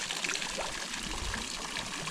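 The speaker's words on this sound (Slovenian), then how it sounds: "Evo, tukaj sva prišla zdaj do enega zanimivega slatinskega vrelca." Cold iron-rich mineral spring water bubbling up in a natural spring in Armenia, a steady soft trickling and fizzing wash heard close and alone.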